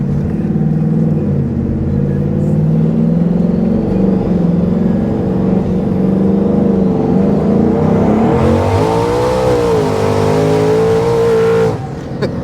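A 2024 Ford F150 5.0 with a Stage 2 Whipple supercharger accelerates hard, its loud engine roar climbing steadily in pitch, then cutting off abruptly near the end, with no talking.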